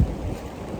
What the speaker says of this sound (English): Those gusts are pretty good.